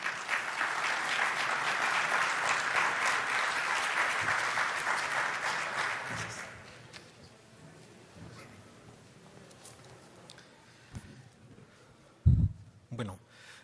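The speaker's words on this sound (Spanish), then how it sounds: "vamos a recibir también con fuertes aplausos" Strong applause at an Indeci metro safety and evacuation event as an architect is welcomed on stage, loud sustained clapping for about six seconds that fades out, followed by quiet room noise and a few faint bumps near the microphone.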